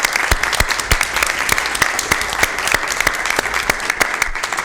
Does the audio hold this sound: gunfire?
no